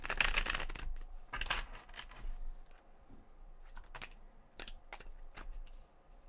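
Tarot cards are shuffled by hand in close, quiet bursts of riffling and flicking, with brief pauses between sharp card snaps and no speech.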